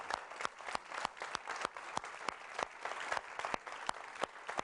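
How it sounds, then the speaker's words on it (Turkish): A studio audience on a Turkish talk show claps in welcome, a fairly quiet, thin patter of distinct individual claps with sharp irregular hits standing out over softer continuous clapping, heard alone without voices. "Ben de sizleri alkışlıyorum"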